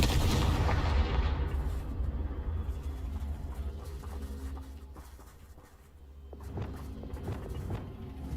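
Confringo fire spell blasts in the Hogwarts Legacy video game: a heavy explosive boom opens and rumbles away, and after a lull a second, sharper burst of blasts arrives with no talk over it.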